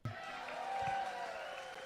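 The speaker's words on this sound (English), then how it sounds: "Y'all give me a round of applause." An audience at a comedy performance breaks into applause, a steady, moderate wash of clapping and crowd noise heard from a short distance with a faint tonal hum underneath, lasting briefly without break.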